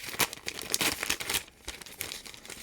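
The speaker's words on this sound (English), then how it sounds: "Okay, and we're just going to rip that all the way open too." A cross-stitch kit's box packaging is ripped open by hand, with close, busy crinkling and tearing that comes in quick bursts with short pauses between them.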